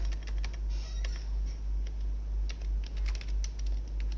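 Rapid keystrokes on a computer keyboard while C code is typed, a steady run of light clicks and taps over a low constant hum, fairly close and unaccompanied by speech.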